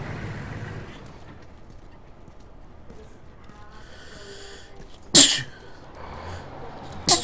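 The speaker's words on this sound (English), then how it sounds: "Sneezed." Two sharp, loud sneezes from a person burst out near the end, the second briefer, above a quiet background of low ambient noise.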